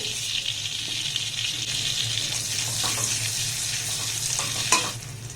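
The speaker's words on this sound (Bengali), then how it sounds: "বাটারটাকে একটু গরম করে নেব দিয়ে দেবো সামান্য একটু গোটা জিরে" Whole cumin seeds sizzle in a small amount of butter heated in a kadai, a close, steady crackling fry with light stirring and one sharp clink near the end, and no talk.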